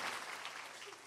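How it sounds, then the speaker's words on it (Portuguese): A church congregation at a Sunday celebration claps together in a short, fairly faint burst of applause, with no voices on top. "Vamos dar uma salva de palmas para eles"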